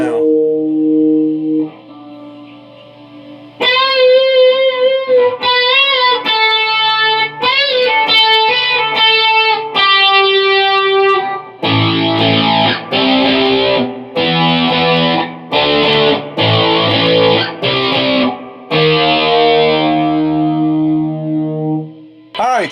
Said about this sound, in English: distortion, you can hear the amp is getting real loud